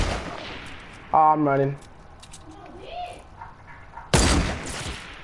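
Gunfire in a Fortnight-style battle royale video game comes as two short, loud bursts, one early and one near the end, with someone talking quickly between them.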